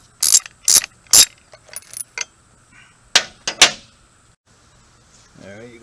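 A hand ratchet loosens a spark plug, giving several sharp clicking bursts in two groups, close and loud, with brief pauses between them.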